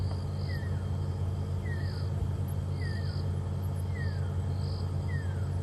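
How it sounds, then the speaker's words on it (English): A rain locust's faint, steady call repeats in regular bursts over constant low background hum, with soft descending whistles drifting in from a distance, on a safari sunset drive. "There's something called a rain locust calling over there"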